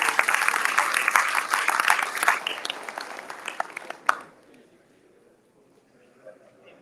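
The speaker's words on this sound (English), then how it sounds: "Let's give Brother Butler another round of applause" A round of applause at a fraternity chapter monument dedication, dense clapping from the gathered crowd for about four seconds before fading to near quiet with faint voices.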